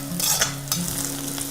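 Sliced onions and cashews crackle and sizzle steadily in hot oil for a chicken fry, a close, continuous frying hiss with a low hum underneath.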